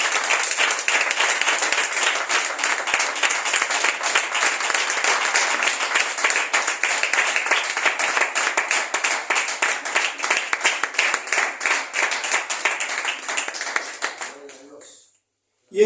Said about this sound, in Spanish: hágale fuerte las palmas al Señor